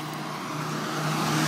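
Ford Mustang with the 232 V6, cold air intake, throttle body spacer and electric fan, running steadily after startup; a constant engine drone with a low hum that grows slightly louder toward the end, no voices.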